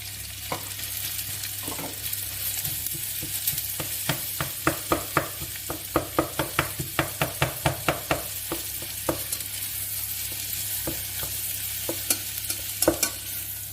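Vegetables cooking in melted, uncoloured butter in a pan, a soft steady sizzle under a run of sharp clicks and scrapes from stirring that cluster in the middle and then thin out; no speech.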